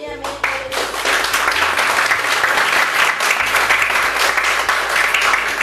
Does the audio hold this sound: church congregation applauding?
yes